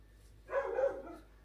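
Several protective pet dogs let out a short burst of barking at someone they sense outside, a single close, moderately loud outburst lasting under a second in an otherwise quiet indoor room.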